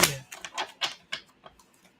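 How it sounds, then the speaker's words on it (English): Tarot cards being shuffled by hand during a psychic reading, a close series of soft papery riffles and slaps in an uneven rhythm, fading quieter toward the end. "You heard me shuffling."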